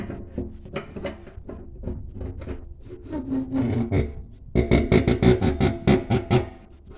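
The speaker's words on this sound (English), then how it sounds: "What I'm doing is tightening this here up." A part on an air compressor being tightened by hand, heard as steady rasping, rubbing strokes, close and fairly loud, that grow stronger and more rhythmic in the final seconds.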